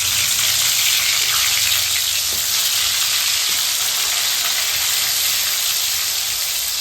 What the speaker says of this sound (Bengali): আর তার সাথে হবে পটল ভাজা।